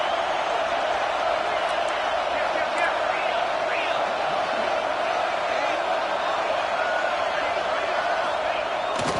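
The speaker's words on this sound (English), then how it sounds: "Decibels rising as the crowd gets behind this defense on 3rd down." Stadium crowd in a college football video game swells into a steady, loud roar on third down, a dense wash of cheering that holds constant throughout with faint whoops poking through.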